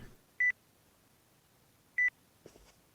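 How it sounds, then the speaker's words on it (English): Two identical short electronic beeps about a second and a half apart, phone busy tone from the NightCry video game, clean and alone with a faint rustle after. "The line is busy."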